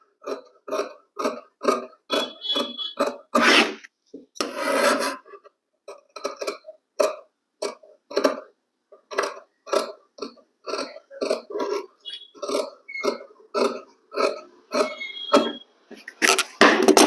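Scissors cutting fabric for a baby Peter Pan collar, a close, steady run of short crisp snips in a regular rhythm, with a few brief rustles of cloth in between and no talking.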